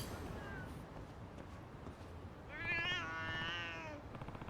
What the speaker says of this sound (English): None of these cats sound happy.